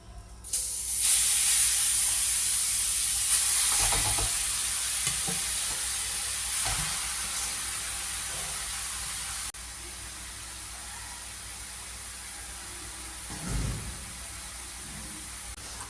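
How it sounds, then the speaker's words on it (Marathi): A loud, steady sizzle and hiss from grated red pumpkin cooking in a pan, with occasional scraping stirs, close and continuous, softening slightly partway through. "आता मी हा भोपळा शिजायला घालते"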